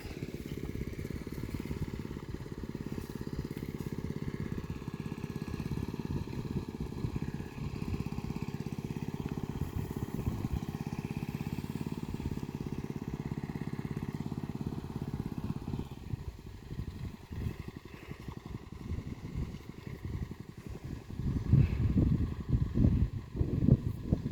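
An engine-driven water pump runs steadily beside a rice paddy, a continuous close engine drone with clattering texture, growing rougher and louder near the end.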